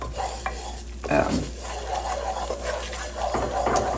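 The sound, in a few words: butter and flour roux cooking and simmering in a pan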